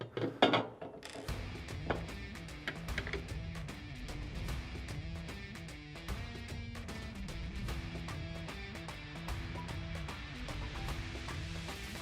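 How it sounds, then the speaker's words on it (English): An M5 screw is driven with a T25 Torx driver on a Bestop Supertop Ultra Jeep JKU, producing a continuous close run of small ratcheting clicks and mechanical ticks with a few louder knocks at the start. "You use the M5 screws with a T25 Torx."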